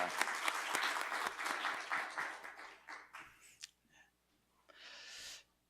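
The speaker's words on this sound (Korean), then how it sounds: "박수로 한번 격려하죠." Church congregation at a Friday worship service claps for about three seconds, the applause thinning and fading out, followed by a short breathy burst near the end.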